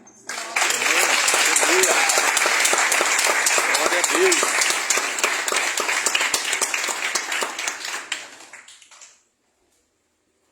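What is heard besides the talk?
church congregation applause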